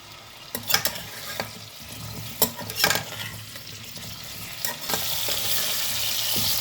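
Drumstick (moringa pod) pieces fry in a pan for a curry, with a steady close sizzle broken by several sharp stirring scrapes and clatters of the spoon against the pan, and no voices.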